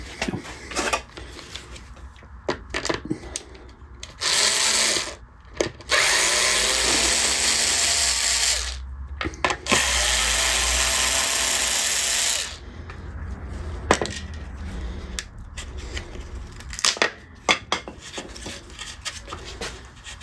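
A screwdriver drives screws while bass guitar pickups are installed, with close bursts of grinding, rasping rotation that alternate with pauses, light clicks and handling noises and no talk.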